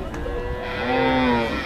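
A red Australian-type cow moos at a busy village cattle market in Dewhata, Mirzapur, Tangail, where animals are sold for Qurbani; one drawn-out low bellow rises and swells over a steady crowd murmur.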